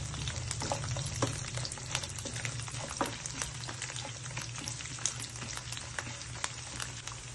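Shallots and three dried red chillies fry in hot oil with a dense, steady sizzle and scattered crackling pops throughout, close and without any talk.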